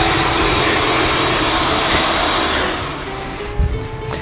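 Steady broadband whirring of cooling fans in a Cisco Catalyst 2960X enterprise network switch, loud and close, easing slightly toward the end with a brief bump.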